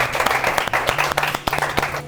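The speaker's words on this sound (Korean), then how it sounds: "그래도 박수 한번 주세요" A small group claps briefly at a bowling alley to honor a bowler, a short burst of sharp, close handclaps mixed with room noise.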